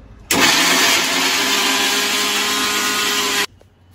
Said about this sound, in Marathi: आधी आपण चिकन शिजून घेतले ना, त्याला आपण मिक्सरला वाटून घेऊया